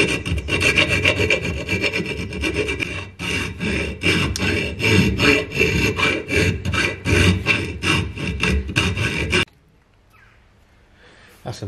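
A hand file rasps back and forth on a Citroën 2CV part in a workshop, rapid rhythmic scraping strokes, loud and close, stopping abruptly near the end.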